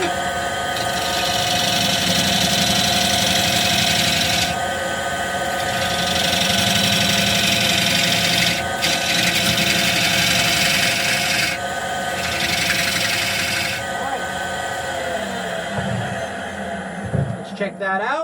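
Wood lathe turning a live edge bowl, a steady loud whirring and scraping of the tool cutting the spinning wood, with rises and dips in the cut throughout.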